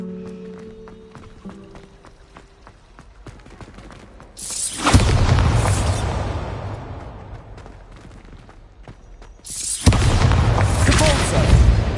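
Bombarda spell blasts in the video game Hogwarts Legacy, two heavy booming explosions a few seconds apart, each with a long rumbling decay over quieter clicking game sounds.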